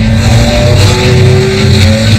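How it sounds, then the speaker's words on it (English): A Ferrari 288 GTO engine runs close and loud, a sustained mechanical drone with a high turbo whine gliding through it, steady and unbroken. "Love this car. You can always hear the turbo whining."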